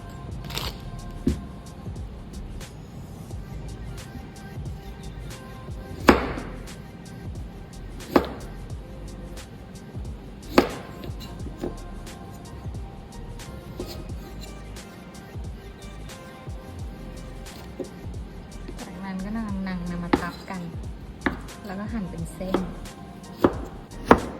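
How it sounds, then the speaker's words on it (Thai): A knife chops carrots on a cutting board, with sharp, close thuds at irregular intervals over a low background hum. "เราก็จะมาเริ่มหั่นกันนะคะ ประมาณสองนิ้ว ทุกอย่างเราจะหั่นประมาณเท่า ๆกันนะ เริ่มจากแครอท"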